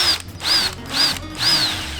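A power drill bores through a plastic car bumper during a stitching repair, sounding in three or four short close whining bursts with brief pauses between them.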